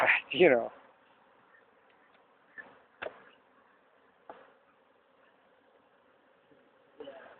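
Honey bees buzzing at a hive that has swarmed, a faint steady drone heard close with a few sharp knocks, and a voice talking briefly at the start.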